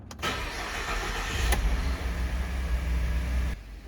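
A 2014 Ford F-150 EcoBoost truck engine cranks and catches, then settles into a steady, close idle with a low rumble that stops abruptly near the end.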